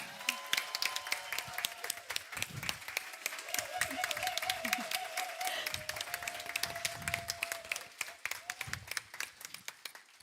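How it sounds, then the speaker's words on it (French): Audience applause for a performer at a live stage show, dense steady clapping running throughout with a sustained tonal line weaving through the middle. "Un tonnerre d'applaudissements pour Flora!"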